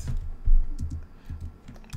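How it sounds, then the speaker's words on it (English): Someone types on a computer keyboard in a short burst of quick, close, uneven key clicks, with no talking. "it is hard typing, reaching around the microphone"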